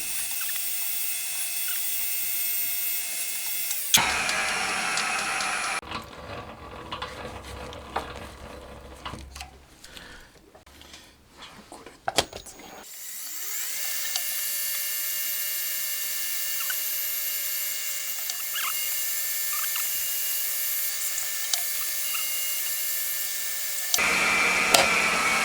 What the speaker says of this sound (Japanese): あとはロッカーアームを固定する部分の穴も開けていきます。